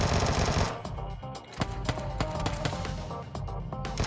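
Rapid gunfire in a video game as enemies shoot from a passing car: dense bursts of shots and sharp cracks, loud and close, continuing almost without pause over game noise.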